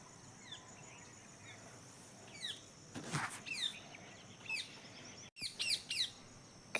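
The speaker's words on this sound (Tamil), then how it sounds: "கிளி எப்படி கத்துது பாருங்க," A parrot calls in a farm garden, sending out repeated short, sharp chirps at moderate distance over quiet outdoor background, with louder bursts of calling toward the middle and end.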